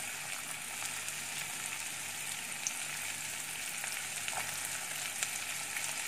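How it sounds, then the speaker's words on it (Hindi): Onion, green chili, ginger and garlic fry in a pan for a Methi Aloo dish, giving a soft, even, continuous sizzle with faint crackles throughout, heard alone and fairly quiet. "हरी मिर्ची, अदरक, लहसुन, प्याज सबको हमने डाल दिया है, अच्छे से हम फ्राई कर देंगे इसको।"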